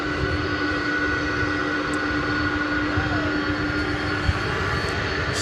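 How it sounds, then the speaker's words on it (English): A steady, far-off drone from jet airplanes at Dallas-Fort Worth International Airport in Texas, an even engine roar with a faint hum, holding constant for several seconds without speech. "love these plane sounds to end my evening"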